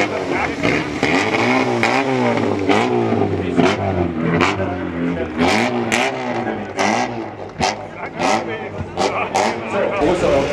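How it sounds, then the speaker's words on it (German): A vintage D18 Volvo humpback rally car drives on the track at the Rallye Monte-Carlo Historique 2024 in Bad Homburg. Its engine revs and accelerates repeatedly, rising and falling, under steady commentary. "Hier sind die beiden jetzt wie gesagt mit dem D18er Buckelvolvo auf der Strecke unterwegs"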